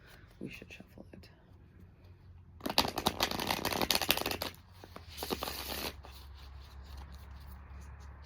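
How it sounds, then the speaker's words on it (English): A deck of tarot cards is shuffled by hand, a few soft taps and then bursts of riffling, flapping card noise close to the mic, with quiet whispery speech alongside. "This one hasn't been shuffled very well at all, so we should shuffle it."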